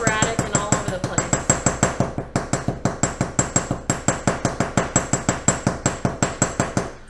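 Rapid, steady metal hammer blows on a metal stamped moon phase pendant, dozens of sharp close strikes in a quick even rhythm with no talking.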